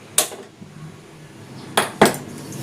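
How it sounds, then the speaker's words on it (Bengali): A metal pressure cooker lid is set on and locked with three sharp clanks, one early and two close together near the end, separated by a quiet kitchen hum, with no talk. "প্রেসার করে ঢাকাটা আটকে গ্যাসটা ধরিয়ে দিলাম"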